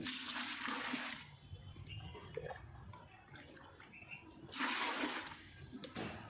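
Water pouring and splashing out of a lily plant pot in a terrace garden, loud gushing bursts at the start and again near the end with softer trickling and drips between.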